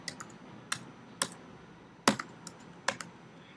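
Someone types code on a computer keyboard: about eight distinct key clicks at an uneven pace, close and fairly quiet, with no talking.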